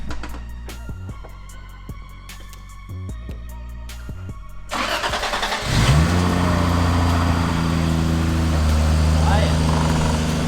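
A 1JZ engine in an MK3 Toyota Supra with a full custom exhaust cranks in short bursts, then catches and settles into a loud, steady idle close by.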